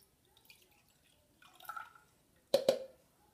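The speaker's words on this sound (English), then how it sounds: "I poured it on my shirt" Liquid baby medicine splashing onto a shirt: two brief, close wet drips or splats in quick succession after a faint rustle, in an otherwise quiet room.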